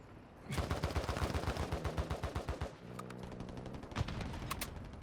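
Rapid automatic gunfire in the mobile shooter game Blood Strike, a close, rhythmic burst of shots, then a pause and a second volley of more scattered, sharper cracks.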